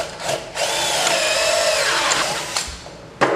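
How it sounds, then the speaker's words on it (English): Power drill boring Kreg pocket holes into wooden workbench rails: a close, loud whirring burst lasting about two seconds, then brief trigger blips as the bit stops and restarts. "So at this point, we'll just drill all of those in the rails."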